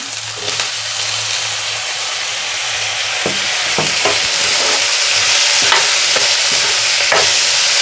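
Finely chopped tomato pieces fry with ginger garlic paste in a pan, a loud steady hiss and sizzle with periodic scrapes of stirring, growing slightly stronger.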